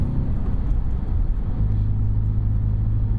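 A stock manual Audi RS4 B7 with a 4.2-litre V8 rumbles steadily with a deep, loud low-end drone that holds constant throughout, without talk.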